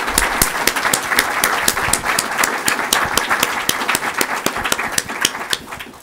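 An audience applauds panelists at the close of a SpaceUp Houston 2014 panel session, with steady, dense clapping from many hands filling the room, fairly close and continuous throughout.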